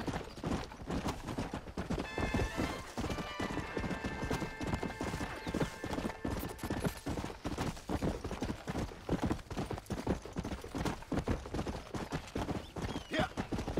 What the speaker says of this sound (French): Oh les chevaux sauvages.